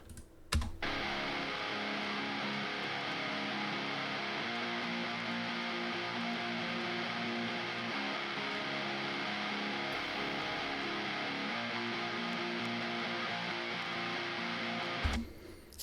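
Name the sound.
rhythm guitars playing alone, mid-focused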